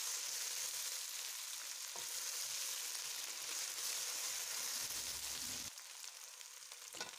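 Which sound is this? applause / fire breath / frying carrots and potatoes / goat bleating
frying carrots and potatoes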